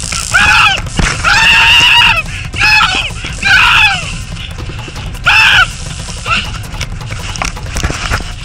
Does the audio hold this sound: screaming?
yes